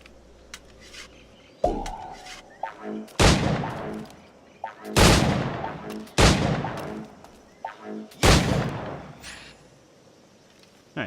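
Gunfire at targets in Assassin's Creed 4: Black Flag: about five loud, separate shots spaced a second or two apart, each with a sharp crack and a short echoing tail, with quieter game sounds in between.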